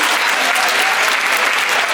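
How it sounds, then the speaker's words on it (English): Loud, dense applause from a competition audience at a Rubik's Cube championship head-to-head final in the Philippines, steady clapping filling the whole stretch with no gaps. "Our competitors, a big round of applause."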